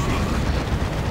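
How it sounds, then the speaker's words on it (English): Heavy gunfire from tier 3 units, including a Predator tank with twin-linked lascannons, pounding a Great Unclean One in a Dawn of War II: Retribution 3v3 match, a dense continuous roar of shots and blasts with no speech. "We're shooting, we're giving all heavy fire on that Great Unclean One."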